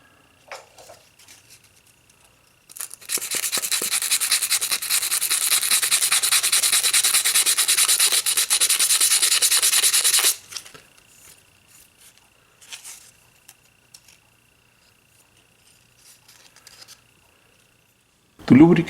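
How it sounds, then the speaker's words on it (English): Steady abrasive sanding rubs over a dented steel scroll from an Easy Wood Tools Easy Chuck, a continuous loud scratching stretch of about seven seconds, bracketed by quiet handling clicks before and after. "Here I show the part of the scroll that had the dents and how I sanded it to smooth it."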